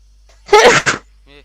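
A single sharp sneeze bursts out close to the microphone, followed by a faint short voiced sound, otherwise quiet.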